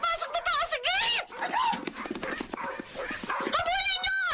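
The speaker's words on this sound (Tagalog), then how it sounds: "Bakit tahol kayo" Several dogs yip, bark and whimper excitedly at the gate of a house, mixed with loud, agitated human voices talking over them.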